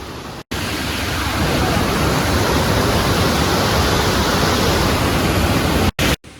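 A waterfall at Devil's Hopyard in Connecticut rushes in a dense, loud, unbroken roar heard close up, steady from start to finish apart from a couple of sudden dropouts.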